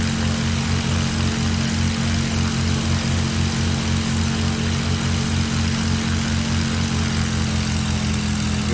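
Carenado's Commander 114 piston propeller plane in Microsoft Flight Simulator X, departing San Francisco, drones with a loud, steady engine and prop throb that stays constant throughout, with no voices.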